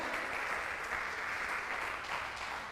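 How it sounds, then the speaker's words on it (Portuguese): Church congregation applauding during a sermon, a steady dense wash of clapping from many hands that holds evenly for the whole stretch and tails off slightly at the end, with no voice over it. "Dá um aplauso aí"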